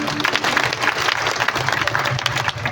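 An audience at a Hindu satsang assembly breaks into dense, sustained applause to welcome the swamis, many hands clapping together, loud and close for the whole stretch.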